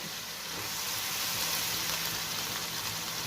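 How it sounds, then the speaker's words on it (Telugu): Two dried red chillies frying in hot oil with fenugreek powder, giving a steady, close hiss of sizzling that runs unbroken throughout, with no talking. "ఎండుమిర్చి, ఇవి ఎర్రగా వేపుకోవాలి"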